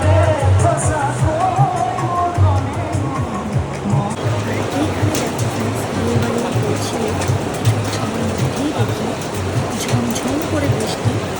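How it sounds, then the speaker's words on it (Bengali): Heavy rain with a hailstorm during an outdoor reception party, a dense continuous roaring downpour with faint scattered clatter, loud and steady, with people talking underneath. "ঝমঝম করে বৃষ্টি, আর শুধু বৃষ্টি নয়, তার সঙ্গে হচ্ছিল শিলা বৃষ্টি"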